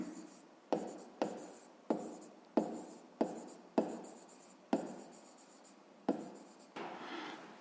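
Pen writing on paper, a close, quiet run of about a dozen short scratchy strokes, each starting with a light tap, in an uneven steady rhythm with no talk.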